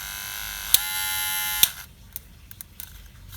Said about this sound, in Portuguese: Máquina ligada.